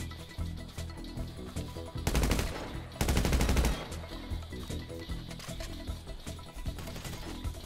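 Two quick bursts of rapid gunfire aimed at someone's feet crackle out in close succession, loud against a steady musical backdrop.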